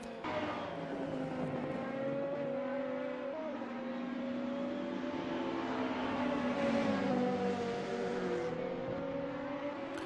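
Race car engines drone steadily around the Sachsenring in a sim racing game, a sustained whining roar with shifting pitch as cars hold speed past the pits, moderately loud and without talk.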